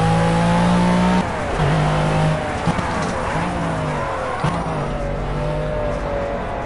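A race car engine in Project Cars revs hard and drops through gear shifts, its tone climbing and falling steadily. Brief tire skids cut in, with no talk.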